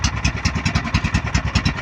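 A just-repaired fishing boat engine runs with a fast, even chugging beat, close and loud, its regular pulses repeating steadily with no talk.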